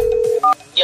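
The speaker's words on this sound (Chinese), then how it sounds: "叶老弟下午好啊，你怎么这么有心给我打电话？" A short run of telephone keypad dialing tones just before a call: a steady tone, then a couple of brief higher beeps, clear and close in a quiet setting.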